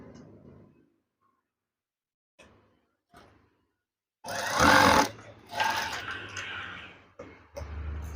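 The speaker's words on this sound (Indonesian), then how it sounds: "Kemudian jahit saja." A sewing machine stitches curtain fabric in short bursts, a close, rapid mechanical whirring that starts and stops several times amid quiet pauses.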